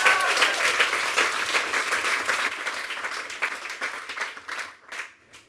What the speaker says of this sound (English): That's a big round of applause, guys.